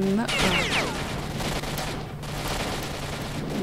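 Video game gunfire in S.T.A.L.K.E.R. Shadow of Chernobyl, a burst of shots at the start followed by sustained noisy rumble and scattered impacts.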